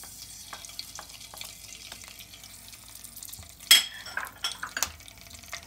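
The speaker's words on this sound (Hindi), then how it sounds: "ताते एक चामच मतो कालो सर्षे और कारी पत्ता फोड़न दिलाम" Black mustard seeds and curry leaves crackle in hot oil for a South Indian-style eggplant dish, a soft steady sizzle with scattered pops that swells into a sharp burst of spitting midway, close and without talk.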